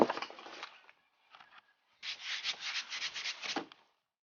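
Hand sanding of body spots on a Chevy Caprice box body: rough scratchy rubbing in two bursts, a short pause with a brief scrape between, close and fairly quiet with no talk.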